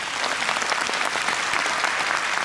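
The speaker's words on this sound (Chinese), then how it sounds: "给他一个最热烈的掌声" Sustained applause from a conference audience at a business testimony event in a Taipei convention hall, a dense, steady wash of many hands clapping at even loudness throughout, with no talk over it.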